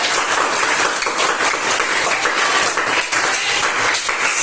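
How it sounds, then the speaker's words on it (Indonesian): A class applauds steadily, a dense continuous patter of clapping that holds at an even level throughout. "Oke, tepuk tangan dulu buat Christine."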